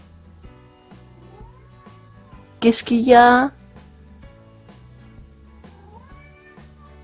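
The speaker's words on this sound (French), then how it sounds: "j'ai mon petit chaton" A kitten lets out a short burst of loud, close meows lasting under a second, with a voice speaking around it and faint background tones.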